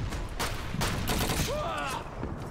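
Pistol fire in the game Call of Duty 2, a rapid run of loud, overlapping shots blending into a dense fusillade with mechanical clatter, filling the whole short stretch.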